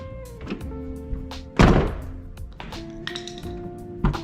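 The door of a 1994 Jeep Grand Cherokee, recently troubled by frozen locks, is shut with one solid, close thunk midway through, amid lighter tapping and handling noises.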